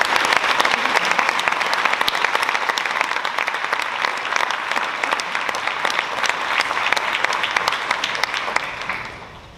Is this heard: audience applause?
yes